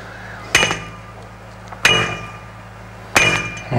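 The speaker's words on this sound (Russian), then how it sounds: "бутуем щебнем и подбиваем оставшуюся длину кувалдой" A sledgehammer drives a metal fence post into a drilled hole packed with crushed stone. Three heavy, evenly spaced blows each give a sharp metallic clang with a brief ringing decay, close by and without talk.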